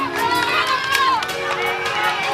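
Small pockets of roadside spectators cheer and shout along the route of the 1994 Tour of Flanders bike race, a lively mid-distance crowd noise with motorbike engine tones running underneath.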